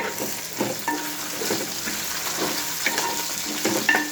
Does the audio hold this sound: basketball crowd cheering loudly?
no